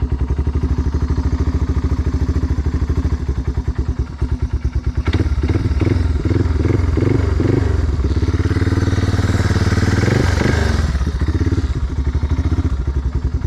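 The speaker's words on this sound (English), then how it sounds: "So this four-wheeler does run sometimes better than others, but I'll start her up real quick." A Yamaha Timberwolf 250 four-wheeler engine idles loudly and steadily, with a rapid rumbling putter and occasional clattering revs partway through.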